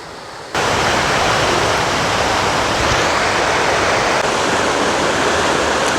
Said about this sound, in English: All sorts of little falls along the way.